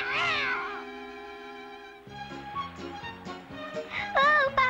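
Azrael, the cartoon cat from The Smurfs, lets out a loud wavering yowl over busy orchestral cartoon music, then another rising, bending cry near the end.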